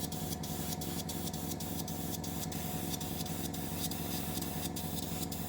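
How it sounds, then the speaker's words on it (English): Short light bursts of spray paint hiss close by as a thin dust coat goes onto a plastic 1/700 scale model of the warship Hood, with a steady airbrush-like hiss throughout and no talking. "a bit of a dust coat first, just to get the plastic to accept the paint."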